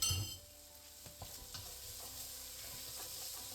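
Garlic frying in a pan for a cabbage and duck soup, giving a close, steady sizzle with a sharp burst at the start and a few stirring scrapes and utensil clinks.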